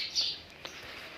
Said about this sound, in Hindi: चिड़िया भी उठ गई हैं, उनकी आवाज़ें आ रही है।